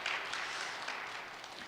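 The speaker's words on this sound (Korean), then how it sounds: "박수 한번 해주시기 바랍니다." A gathering of students at a church worship service claps for the choir and accompanist, a brief, even patter of applause at moderate volume with no voices over it.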